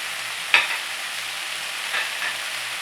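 Mutton keema with turmeric fries in a pan as a soft, steady sizzle, with one sharp utensil scrape near the start and two fainter scrapes later.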